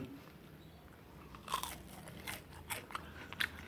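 Crunchy bites into salt-fried salmon belly, several soft crisp crunches close to the mic in a quiet room, clustered in the second half.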